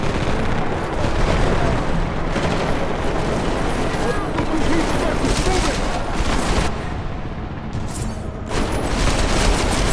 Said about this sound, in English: heavy fire down here.